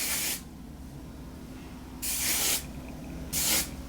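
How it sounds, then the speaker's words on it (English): Hairspray is sprayed onto fine, soft heatless curls in three short hissing bursts, close and fairly loud, with quiet pauses between them. "you could just like not spray your hair with hairspray if you don't like hairspray"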